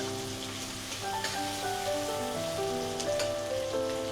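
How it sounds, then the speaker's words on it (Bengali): Onion fries in a pan, giving a soft, steady sizzle with faint crackles, heard quietly alone. "এই পেঁয়াজটাকে একটু লাল করে ভাজতে হবে।"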